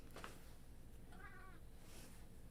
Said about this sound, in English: Even the cat is saying there's a problem.